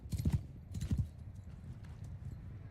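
Horses in the video game Bannerlord, Lord of the Rings mod, pounding past in two heavy bursts of hoofbeats, then a softer, more distant trail of clip-clopping.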